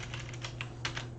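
Quick, uneven keystrokes on a computer keyboard during Cisco switch configuration, close and fairly quiet over a steady low hum, with a few louder key hits.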